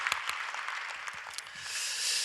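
A church congregation claps together during a Korean Friday evening worship service, a dense, steady patter of many hands that swells slightly toward the end. It is moderately close and continuous.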